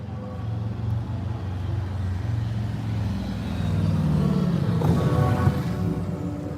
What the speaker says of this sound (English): Here comes another motorcycle